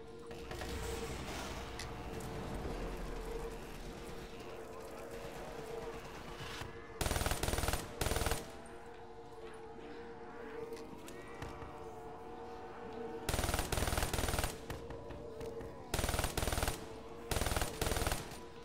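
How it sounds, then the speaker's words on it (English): Bursts of submachine gun fire in a zombie-killing video game, rapid full-auto volleys crackling loud and close in several separate bursts over steady game noise and music. "I got two submachine guns, so if one goes empty"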